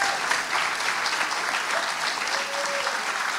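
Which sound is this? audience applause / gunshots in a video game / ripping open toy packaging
audience applause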